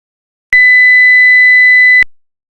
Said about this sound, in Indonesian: Suara 1000 Hz.